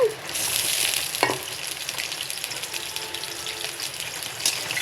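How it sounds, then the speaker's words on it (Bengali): Onion hits hot oil in a pan for a Bengali ridge gourd and red lentil dish, crackling and sizzling steadily up close with a brief stir partway through and no talking. "তেলের মধ্যে পেঁয়াজ ছেড়ে দিলাম"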